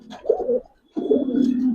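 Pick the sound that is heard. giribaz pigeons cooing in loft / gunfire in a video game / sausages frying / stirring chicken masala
giribaz pigeons cooing in loft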